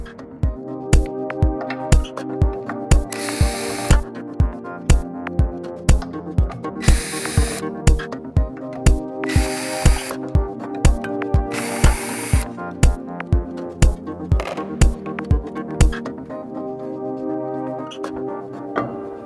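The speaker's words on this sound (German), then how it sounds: "können Sie damit beginnen, die Fußschrauben zu lösen" A power tool loosening the foot screws of an industrial blower housing, with regular rhythmic ratcheting clicks and several bursts of whirring at close range, stopping near the end and leaving quieter background sound.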